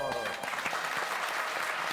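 A studio audience at a lecture-style talk show bursts into a short, dense wash of applause that is loud from the start and overlaps with a speaking voice.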